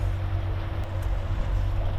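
A sailboat's engine runs steadily at close range as a low, constant drone with a faint hum, with wind noise in the background and no talk.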